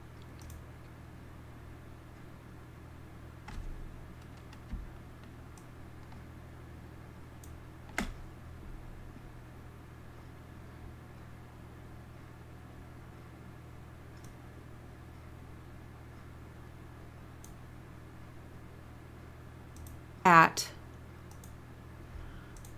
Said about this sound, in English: It's easier if you click it in the Objects panel.